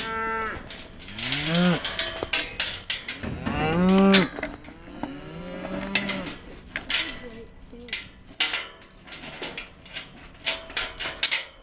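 Miniature Hereford cattle moo repeatedly, several drawn-out calls up close, mixed with clattering metal knocks and rattles as they are loaded and hauled, a few soft voices faintly underneath.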